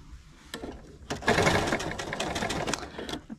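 Sewing machine stitching a baby quilt made from a panel, walking foot down: a quick mechanical rattle that starts in short bursts, then runs steadily at close range.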